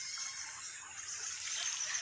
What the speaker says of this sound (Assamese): এয়া চাওক নদীটো এইটো কালদিয়া নদী কালদিয়া